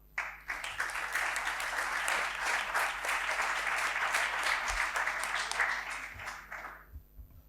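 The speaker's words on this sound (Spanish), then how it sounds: "pido un aplauso hoy para ellos, por favor." Sustained audience applause for theatre school graduates, a full, even roar of many hands clapping for several seconds before tapering off at the end.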